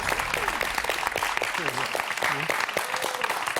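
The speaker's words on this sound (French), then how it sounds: "Jean-Marc, le public vous applaudit" Dense applause from a TV game show studio audience fills the clip, steady and close, with a voice speaking over the clapping.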